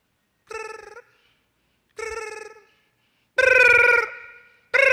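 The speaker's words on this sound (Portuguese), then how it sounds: "Quem já perdeu seu celular em casa? Então você pede alguém ligar." A mobile phone ringtone plays in a quiet room: two short melodic tone bursts, then a longer, louder one and the start of another, with silent gaps between them.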